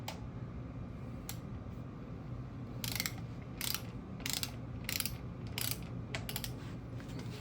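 A ratchet wrench tightening bolts on a Ford Coyote Gen 3 5.0 engine, several short bursts of crisp clicking spaced a second or so apart over a quiet workshop hum.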